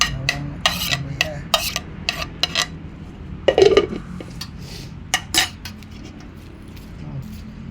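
Homemade kimchi ingredients, including ginger and garlic, being mixed in a bowl, with clinking and scraping of utensils against the dish in irregular bursts, close and fairly loud, with brief soft voices.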